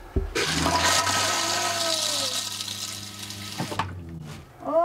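Water rushes loudly into a repaired RV toilet for about three and a half seconds after the supply is turned on, a steady flushing gush that cuts off, followed by faint clicks and a brief noise at the end.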